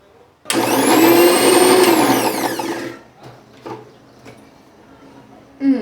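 A mixer grinder runs loud and close for about two and a half seconds, grinding ginger and garlic into a paste for veg momos, then cuts off into quiet kitchen clatter and a brief thump.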